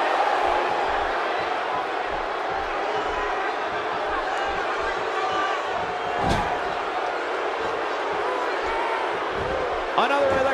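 A SmackDown arena crowd in the WWE 2K17 video game roars steadily in the background during a wrestling match, with occasional slams and thuds from the ring and commentary voices talking over it.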